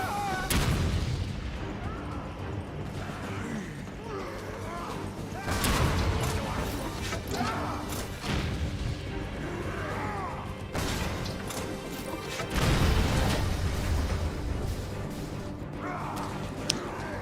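Explosions from the Resident Evil 5 video game burst loudly three times with heavy booming crashes, separated by stretches of rumbling in-game noise and mechanical clatter.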